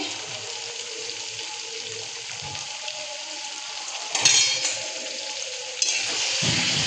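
Pointed gourd simmering in milk in a pan, stirred with a steady low sizzle and bubbling hiss, soft scraping throughout and a couple of louder clatters near the end; no voices.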